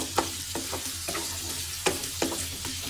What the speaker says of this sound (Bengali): তো এখানে মশলাপাতি দিয়ে আমি আলুটা ভালোভাবে কষিয়ে নিচ্ছি।